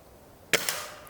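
A single sharp gunshot cracks out outdoors at a cold-weather camp, aimed at a can, followed by a quick echo and short decay.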